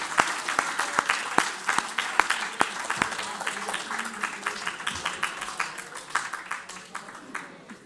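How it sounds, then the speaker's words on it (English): Audience at a computer science education day event applauds the MC, a mix of crowd clapping with a few loud, close individual claps, tapering off near the end with some voices underneath. "Can we get one more round of applause for our amazing MC this afternoon?"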